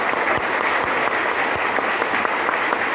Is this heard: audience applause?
yes